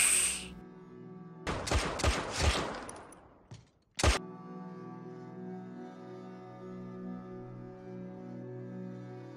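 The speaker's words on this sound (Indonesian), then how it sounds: "Nena langsung memberondong peluru kepada Charan hingga tewas." A short burst of rapid shots rings out after a quiet start, followed by one more sharp crack, then a low steady hum.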